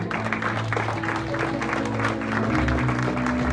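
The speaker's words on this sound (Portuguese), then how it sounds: "Será que você pode aplaudir ao Senhor?" A church congregation claps for the Lord at the close of a worship service on Martha's Vineyard, a steady wash of applause blending with sustained organ or keyboard tones throughout.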